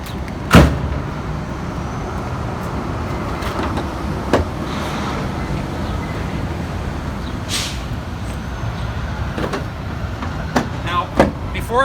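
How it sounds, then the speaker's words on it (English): A truck hood being pushed shut during a pre-trip inspection: one sharp, loud thump near the start stands out over steady engine idle and yard noise. Several smaller clunks follow. "We'll release the safety and we'll close the hood."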